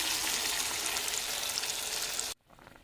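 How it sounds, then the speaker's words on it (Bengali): Lightly fried hilsa fish sizzles hard in a hot pan of mustard oil as water goes in. A loud, dense hiss holds for over two seconds, then cuts off abruptly to a faint simmer. "হালকা ভাজা হয়ে গেছে, এখন আমি এর মধ্যে দিয়ে দেব জল।"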